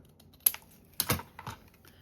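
Small scissors trimming a tiny paper tag, three crisp close snips spaced about half a second apart over a quiet background.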